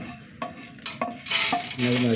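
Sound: toor dal roasting and being stirred in a pan

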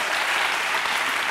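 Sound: TV studio audience applause

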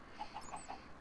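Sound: chickens clucking in Minecraft Sky Factory 3, video game

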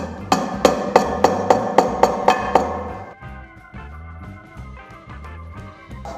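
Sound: hammering plastic wall anchor into drilled hole in cement floor

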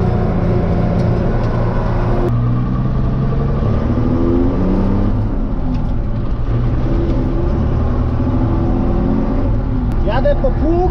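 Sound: Fortschritt ZT323 tractor engine driving

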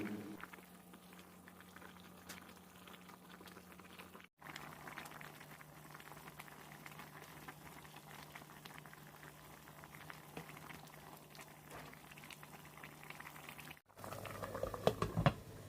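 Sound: vegetarian bitter melon and pickled mustard green soup boiling in pot

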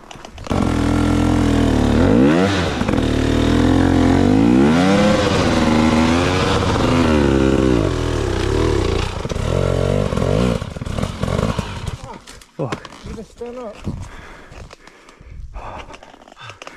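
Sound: motorcycle engine revving and riding

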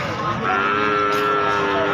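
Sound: cattle mooing at a market

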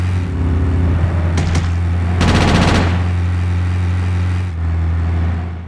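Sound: gunfire in the video game GTA Chinatown Wars

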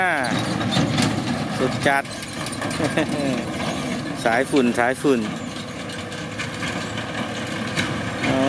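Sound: ten-wheel dump truck engine climbing a steep slope at full power

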